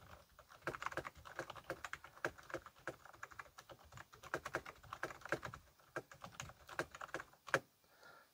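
Rapid, uneven clicking of keys on a Lenovo KM300 Legion mechanical gaming keyboard, close and fairly quiet, a steady stream of sharp taps with a few brief pauses and one louder strike near the end.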